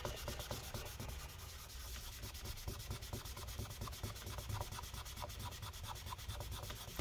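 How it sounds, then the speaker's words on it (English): Adhesive residue being scrubbed off a 2017 13-inch MacBook Pro A1706 with rubbing alcohol makes a continuous, close, rapid rubbing and scraping that stays steady throughout, with no voices. "Get a little more rubbing alcohol in there and continue cleaning."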